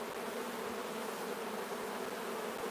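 Honey bees drone steadily at an open hive during a beekeeping inspection, a dense, continuous buzz of many insects held at an even, moderate level close by with no voices.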